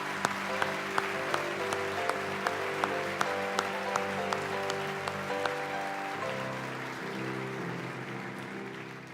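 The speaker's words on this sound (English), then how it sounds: "Now let's give our kids a round of applause." Sustained applause from an audience at an awards ceremony, a steady wash of clapping with a few sharper claps standing out, moderately distant and without voices.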